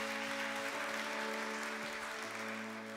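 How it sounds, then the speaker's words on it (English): Sustained applause from a crowd, a dense even patter of clapping that holds steady for a few seconds. "I feel like that deserves another round of applause."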